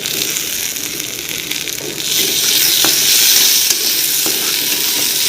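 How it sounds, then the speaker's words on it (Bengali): Chopped onion and tomato frying in a pan with potato for a Maggi noodle dish, a steady loud sizzle that swells about two seconds in, with a few faint stirring clinks, no talk. "তারপর আমি পেঁয়াজ কুচিটা ঝালছি ঢেলে দিচ্ছি হলো টমেটো কুচি"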